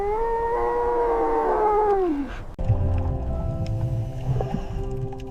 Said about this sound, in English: This is a tiny sandy desert Arabian wolf.